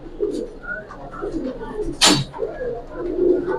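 Pet pigeons, including a female, coo softly in soft bursts alongside a brief sharp rustle or flap, with faint voices in the background.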